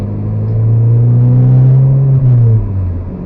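A Mazda 3 with a 6-speed manual gearbox runs with its muffler removed, giving a loud, steady, droning exhaust rumble that swells slightly and then eases off, close by with no talking.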